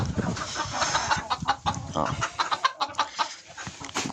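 Hens clucking and murmuring nearby in a steady, busy stream of short calls, with a faint voice briefly audible.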